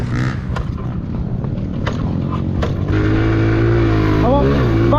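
A pit bike engine idles roughly, then revs up loudly and holds a rising, buzzing note nearby, with clatter and knocks throughout.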